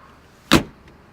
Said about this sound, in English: doors open and close like they should.